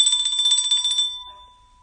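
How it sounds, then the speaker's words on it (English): A bell, a single bright ring that buzzes for about a second and then fades away, loud and alone. "Here, we'll give you a bell for that one, Jose."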